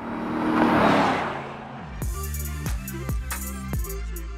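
A Lexus IS 500 with a 5-liter V8 roars through its stacked exhaust pipes, first a swelling throaty rush, then a series of sharp rev blips with abrupt cuts between them, loud and close with no talking.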